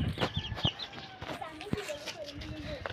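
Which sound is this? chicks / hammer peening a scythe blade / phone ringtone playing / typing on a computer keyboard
chicks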